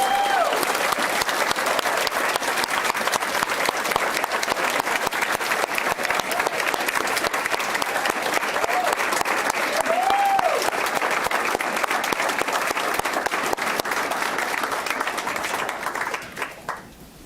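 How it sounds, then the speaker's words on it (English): An audience at a school board meeting applauds the semifinalists, a steady, dense round of clapping from many people that holds for about sixteen seconds before tapering off, with a few faint voices rising through it. "So please give all of our semifinalists one more round of applause."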